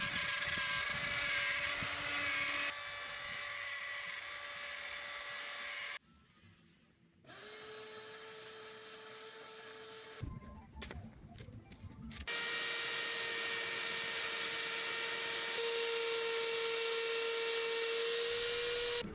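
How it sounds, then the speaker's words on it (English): A router fitted with a short template bit cuts a neck pocket in wood, its loud steady whine running in long stretches that change pitch and stop briefly between passes, with no talking. "Now I'm just going to take the router with a short template bit on it and slowly take out material to form the neck pocket."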